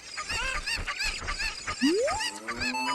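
Cuccos, the chickens of Zelda Master Quest 3D, squawk and honk in a busy run of bird calls, with a rising whistle-like game tone sliding up partway through, fairly loud and close.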